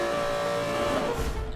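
A race car in Need for Speed Most Wanted (2012) holds a steady, loud engine drone at high speed, with a roughening swell and a burst near the end; no talk.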